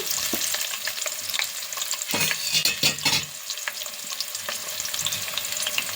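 Onions and green chilies frying in hot oil for veg biryani, a steady loud sizzle with bursts of stirring and scraping in the pan midway, no voices.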